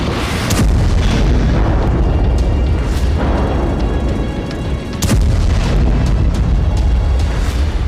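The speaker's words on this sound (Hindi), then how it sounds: "जहां इलाके खाली हो रहे हैं, वहां हमास के ठिकानों को विस्फोट से उड़ाया जा रहा है।" Heavy explosions blow up Hamas positions in Gaza, a dense and loud rumbling roar with sharp booms near the start and again around the middle.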